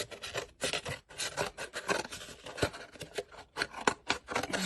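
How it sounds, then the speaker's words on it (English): Scissors cut a paper plate in half, a close run of irregular crisp snips and rasping slices following one another without pause. "you just first cut your plate in half"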